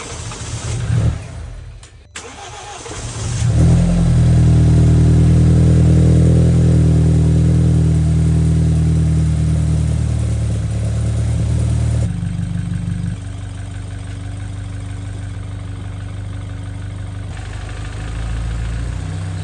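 A BMW B58 engine fires up for its first start with no muffler fitted, cranking briefly before catching into a loud, raw rev and then settling into a steady, rumbling idle close by.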